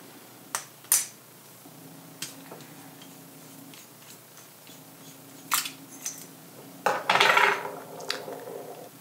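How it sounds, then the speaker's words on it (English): Nib unit being pulled from a Moonman/Majohn A1 capless, clipless fountain pen: a few sharp, close clicks and small plastic ticks spaced across a quiet room, with a brief rustling scrape near the end. "If I take the nib unit out"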